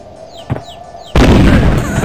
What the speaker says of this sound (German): Dann sprengen wir das.